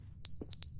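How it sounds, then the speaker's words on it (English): Electronic beeping from the video game The Stanley Parable Ultra Deluxe: a loud, steady high-pitched tone sounding in repeated pulses, with a brief dip between beeps over a low background hum. "Well, it's beeping."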